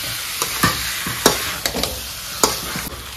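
Pork pieces fry in a spiced masala, a steady sizzle broken by a few sharp clatters of stirring, close and alone with no voices.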